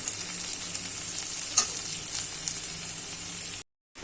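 Tomato with turmeric, dried chili powder and salt sizzling steadily in a pan, a continuous bright frying hiss with one brief stir clink, cutting to silence near the end.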